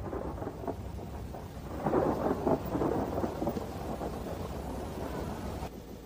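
Thunder rumbles through a steady downpour of heavy rain, with wind gusting during a stormy night; the roll swells loudest midway and holds as a continuous wash without speech.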